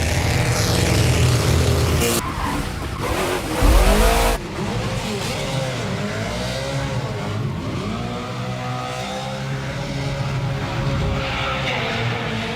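A 1965 Ford Mustang nicknamed the Hoonigan drifts through downtown Los Angeles streets, its engine roaring and revving while tires squeal in long sweeping skids, with narration running underneath.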